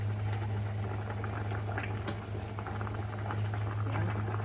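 Pineapple sour curry with canned fish boiling steadily in a pot, a continuous close bubbling and gurgling with a low steady hum underneath, no voices.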